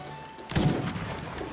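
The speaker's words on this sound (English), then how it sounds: "They're still shooting in the water!" A ship's cannon fires in Sea of Thieves with a single sharp, heavy boom after a quiet moment, then a rumbling tail that fades slowly.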